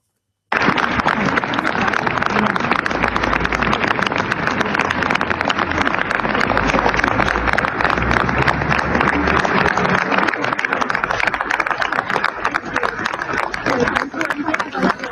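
A large crowd at a Milan rally for Charlie Hebdo applauds steadily, a dense continuous roar of clapping that runs unbroken for about fifteen seconds before easing slightly near the end.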